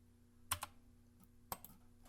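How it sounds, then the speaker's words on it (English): Two crisp keystrokes on a computer keyboard, the X key pressed about a second apart, each a sharp close click with a faint release tap, in a quiet room. "We can choose X on our keyboard."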